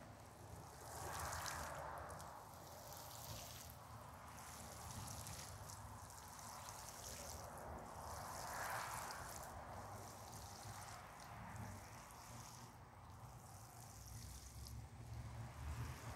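Water pours steadily onto freshly planted Montana Giant garlic in a garden bed, a soft continuous splash and trickle with gentle swells, fairly quiet and with no talking.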